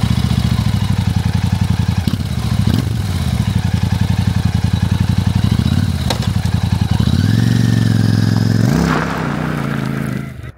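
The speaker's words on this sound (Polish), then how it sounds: "tutaj ta dwucylindrówka z wykorbieniem 270 stopni, a dzięki czemu ten silnik bardzo ładnie brzmi" A Royal Enfield Classic 650 twin-cylinder engine with a 270-degree crank runs close by with a throbbing, even beat, then revs up and pulls away near the end, with some mechanical clatter.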